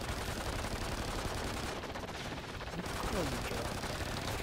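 Rapid gunfire from a Call of Duty Nightfall match rattles on at low volume amid steady game noise, with no clear voices in this moment.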